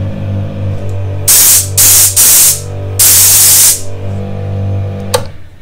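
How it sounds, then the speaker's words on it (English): A truck's air compressor blows loud hissing bursts of air: a few short blasts, then one longer one, over a steady mechanical hum with no talking. "I thought I'd better fix the air compressor on the truck, so we actually had some air for the weekend."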